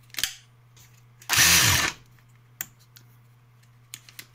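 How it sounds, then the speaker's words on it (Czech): A Makita DHR263 cordless rotary hammer drill runs in one loud burst of a bit over half a second, its whine strong and close, with a few clicks and knocks around it over a steady low hum. "Jede, ta vrtačka prohodně dobře."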